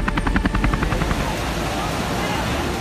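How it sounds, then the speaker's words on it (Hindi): Steady rotor chop of an army helicopter airlifting people trapped in floodwater, loud and close at first, then settling into a continuous roar. "कुछ लोग जो मुसीबत की बाढ़ में फंस गए, उन्हें सेना के हेलीकॉप्टर के जरिए एयरलिफ्ट किया गया"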